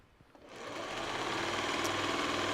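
Sewing machine stitching during a quilting session, a fast steady mechanical whirr that starts quietly and builds to an even, continuous hum for a couple of seconds.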